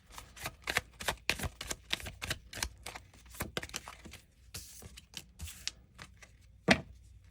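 Tarot cards shuffled by hand, a rapid run of crisp riffling flicks and slaps, close and clear, with a sharper snap near the end and no talking.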